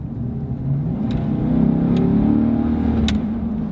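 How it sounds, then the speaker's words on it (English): Steady engine hum and road rumble from a Chevy Silverado pickup truck driving in another gear, a low even drone rising slightly with a few faint clicks, close and without talk. "We see how it goes in another gear."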